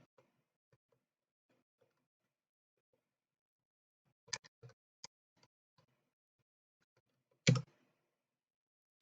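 Keys on a computer keyboard being typed on in a few sparse, short bursts of clicks, quiet and close, with a single louder clack near the end and long silent gaps between strokes.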